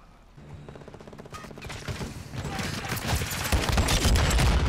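Battle rifle gunfire during 6v6 multiplayer in Call of Duty: Modern Warfare, rapid sharp shots in dense bursts that build louder over the clip, with game ambience and no talk.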